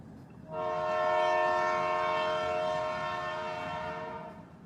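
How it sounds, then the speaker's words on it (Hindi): A train horn sounds one long, sustained, loud blast that rises quickly and then fades slowly, with low rumbling rail noise beneath it. "वेदा ये सब सोच ही रहे थे कि ट्रेन रुक गई"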